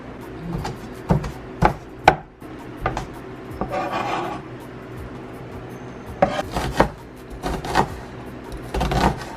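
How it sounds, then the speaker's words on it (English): Knife chopping onions into small pieces on a board for a traditional Jamaican Sunday dinner, uneven clusters of close thuds and scraping rasps separated by short pauses, with no talking. "You just chop up your onions into small pieces."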